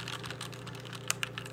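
Keys typed on a SteelSeries Apex 7 TKL mechanical keyboard with Cherry MX Red switches, a few light clicks ending in three sharper, distinct strokes over a steady low hum.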